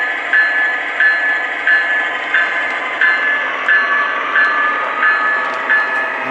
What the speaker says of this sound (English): There's the electronic bell. Very modern bell sound.